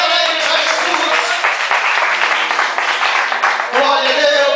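Congregation clapping during a Portuguese-language evangelical church service, a dense, steady burst of applause that runs the full length with a brief dip near the end, mixed with crowd voices.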